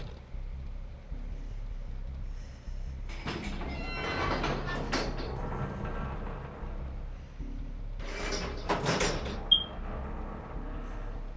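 In a video game, a sliding door opens with bursts of mechanical rumble and clatter: two separate surges a few seconds apart, the second ending in a sharp click, set over a low background hum.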